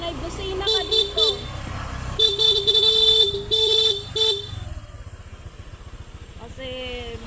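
A vehicle horn honks repeatedly in short blasts on a sharp mountain-road curve in Las Navas, Northern Samar, over a steady running engine that continues after the honking stops.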